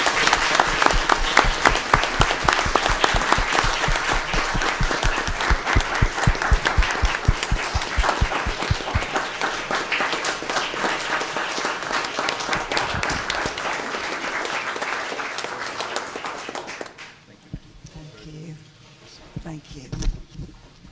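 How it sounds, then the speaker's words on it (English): A council meeting audience applauds the city's fire and police chiefs and emergency director, dense steady clapping filling the room for about seventeen seconds before fading into quieter room sound. "Let's give them a round of applause."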